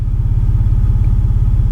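A Ford 3.5 EcoBoost V6 in a 2018 truck idles close up with a steady, even low rumble and fine rhythmic pulsing, fitted with an SCT BdX tuner and running lean, no voices over it.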